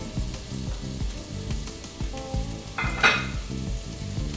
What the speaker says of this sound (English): So I am going to fry this until they're nice and tender.